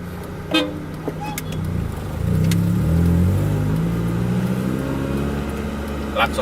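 Car horns toot in congested traffic on the outskirts of Depok, heard from inside a Honda Accord Maestro with an F22B1 VTEC engine; a couple of short honks sound over a steady low engine rumble, with a brief voice nearby.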